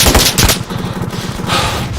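An AK-74 rifle fires in a video game: loud, rapid automatic bursts crackle close and continuously for about two seconds.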